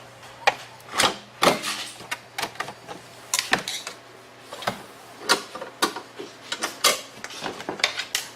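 Side panels being opened on a 2011 Ski-Doo 800 E-Tech snowmobile: a scattered series of sharp plastic clicks, knocks and rattles at close range, irregular and moderately loud, with no talking.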